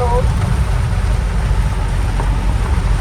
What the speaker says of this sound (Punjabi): ਮੀਂਹ ਬਹੁਤ ਜ਼ਿਆਦਾ ਤੇਜ਼ ਹੋ ਗਿਆ